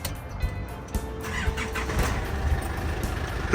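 A 2001 Isuzu Vega 3.0 turbo 4x4 engine cranks and catches, settling into a low idle rumble, with a sharp click near the end.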